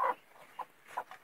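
A broody desi hen sitting with newly hatching chicks gives a few short, soft clucks spaced irregularly and close by.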